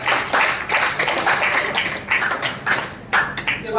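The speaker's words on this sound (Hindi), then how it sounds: "एक बार जोरदार तालियां सब लोगों के लिए" Audience at a meeting clapping, a continuous close patter of many hands with small surges, lasting the whole moment and with no voices over it.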